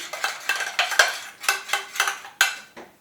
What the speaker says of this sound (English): let it thicken it up and stir it around, break up any clumps and you're good to go